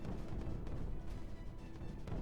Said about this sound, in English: The explosion's continuing.